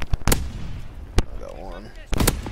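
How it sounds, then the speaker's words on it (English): Grenade blasts and gunfire in a shooter video game land as several sharp, loud bangs spaced unevenly, with a brief stretch of voice between them. "Throw some nades."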